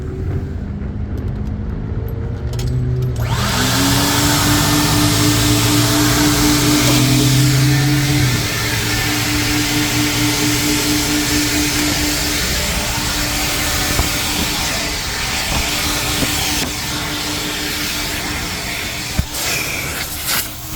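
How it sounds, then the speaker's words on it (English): A coin-operated gas station vacuum cleaner runs steadily while cleaning a car, a loud continuous roaring hiss with a whining tone, sustained for the whole stretch and heard alone. "like an ordinary vacuum cleaner, you can vacuum all the areas of your car"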